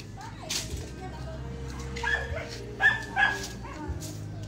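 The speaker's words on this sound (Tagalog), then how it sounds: "Itali mo yung aso mo." A dog barks and yips a few times in the middle distance, short bursts over outdoor background noise and low rumble.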